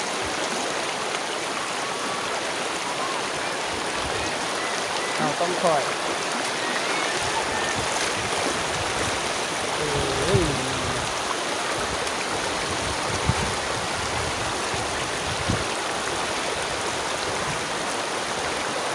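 A river flows steadily in a rural village setting, a constant close rushing wash of water filling the whole stretch, with someone talking briefly over it and small knocks and splashes scattered through.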